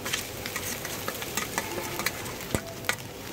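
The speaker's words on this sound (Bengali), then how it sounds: "মাছগুলো ভালোভাবে এর মধ্যে আবার একটু ভেজে নেব ভালো করে আর কি" Taki fish with fried onions is stirred in a hot pan, giving a continuous close sizzle with scattered scraping stir strokes and a few sharper clinks.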